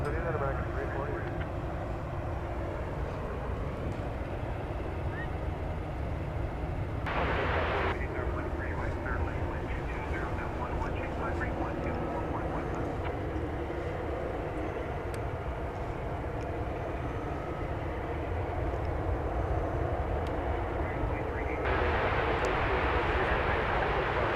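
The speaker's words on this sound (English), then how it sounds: "Over to runway 18 left for takeoff" A passenger airliner takes off from runway 18 left at DFW Airport at night, its steady engine roar filling the background and swelling near the end, with people talking over it throughout.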